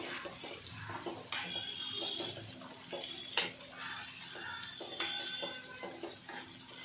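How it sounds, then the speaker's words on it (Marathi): Steamed green chilies are stirred in a metal pan with a spoon, giving several sharp scraping clinks at irregular intervals over a low steady cooking hiss, close and moderately loud with no talking. "आता हे आपण चांगल्यापैकी हलवून घ्यायचं आहे"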